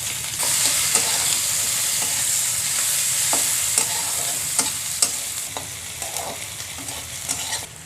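Bay leaf, chopped onion, garlic and slit green chili frying in hot oil, a dense steady sizzle with sharp stirring scrapes and clacks of the spatula recurring close by.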